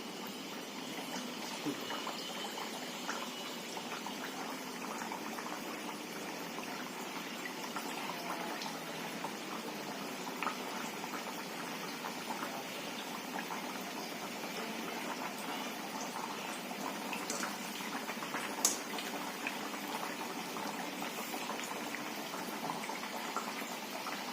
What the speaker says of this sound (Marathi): तेल पण बऱ्यापैकी तापलं आहे आता आपण सोडून पण बघा